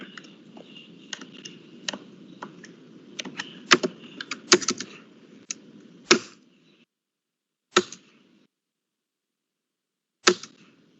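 Keys clatter on a computer keyboard during invoice data entry, a burst of irregular close clicks followed by a few isolated, louder keystrokes spaced seconds apart.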